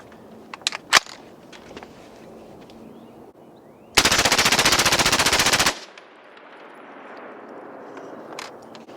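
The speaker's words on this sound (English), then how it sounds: "Now we're ready to dump a whole mag with a silencer so you can hear the difference." A suppressed HK G36 rifle fires a full magazine in a rapid, unbroken burst lasting about two seconds, sharp and close, with quieter handling clicks before and ambient noise after.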